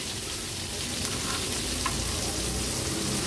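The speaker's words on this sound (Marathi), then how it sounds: "पुन्हा हे प्रॉन्स आपण पलटून घेऊया." Prawns frying in oil on a flat iron tawa make a steady, dense sizzle that stays close and even throughout, with no talking.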